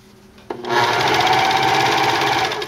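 A serger trims and stitches the edge of a striped tank top, starting with a click and then running in a fast, even mechanical whir for a couple of seconds, close and alone.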